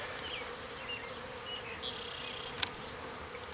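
Honey bees buzzing steadily in a one-month-old hive during an inspection after smoking, a low, even drone close to the microphone with one brief sharp tap partway through.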